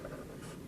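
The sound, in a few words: writing on a board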